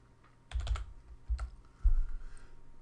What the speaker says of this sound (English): pressing Control-B on my keyboard and creating the bookmark that way